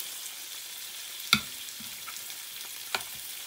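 Soy-marinated beef tenderloin for Ilocano igado sautéing in a pan, a soft steady sizzle with a couple of sharp clinks of a utensil against the pan and no voices.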